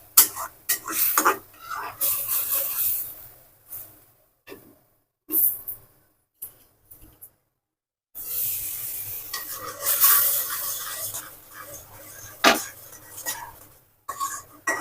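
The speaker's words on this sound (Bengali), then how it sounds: "মশলাটা সুন্দরভাবে কষানো হয়ে গেছে" Spice paste is stirred and fried in a pan for a simple chicken curry: a run of close scraping, stirring strokes with soft sizzling, broken by brief pauses and a short silent gap midway.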